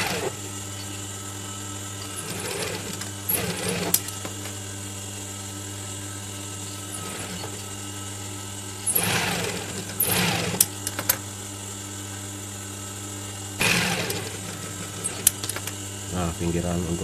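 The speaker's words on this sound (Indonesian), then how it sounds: "pinggiran untuk karetnya dijahit dulu ya, biar gampang seperti ini" A sewing machine stitches the edge of a fabric face mask in a Batman-pattern style, running in three short bursts over a steady background hum.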